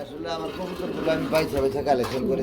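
Pigeons coo in soft, repeated throaty calls at a busy pigeon market, with people talking nearby over them.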